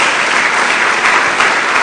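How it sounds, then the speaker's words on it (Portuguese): Sustained applause from a church congregation, a dense, steady wash of clapping heard alone at fairly high level with no pauses. "Dê uma salva de palmas a Jesus"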